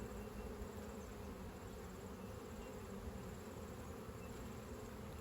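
A steady swarm drone of honeybees around an open Langstroth brood box, many insects humming together up close, unbroken and even throughout.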